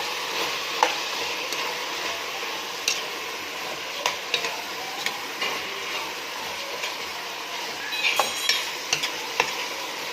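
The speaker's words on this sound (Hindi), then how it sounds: "अच्छा, 5 मिनट तक अब इस मसाले को हम लोग फिर भूनेंगे" Red chili, turmeric, cumin and black pepper fry in a pan, a soft continuous sizzle broken by scattered scrapes and clicks of stirring, fairly quiet with no talking.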